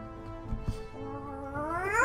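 A person imitates a cat's meow with their voice, a short rising, drawn-out meow that climbs in pitch toward the end after a couple of soft knocks, close and moderately loud.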